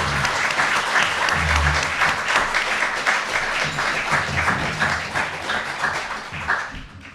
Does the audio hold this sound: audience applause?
yes